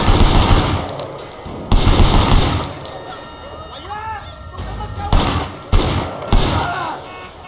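Pistol and automatic gunfire in Sleeping Dogs, a hospital shootout, erupts as loud, close bursts several times over a few seconds, with glass-like clinks and a voice talking in between.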